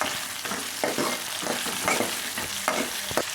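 Masala for Gowda-style mutton biryani and sambar roasts in a pan, a soft steady sizzle punctuated by a series of scraping stir strokes and light knocks close by, with no speech.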